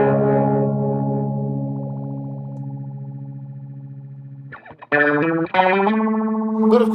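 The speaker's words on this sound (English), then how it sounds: "the rate knob can get really fast with this phaser and flanger settings" A Mooer Red Truck multi-effects pedal on guitar runs a phaser and flanger at a very fast rate, giving a sustained chord a rapid warbling, almost ring-modulated shimmer before several sharper, choppy notes ring out.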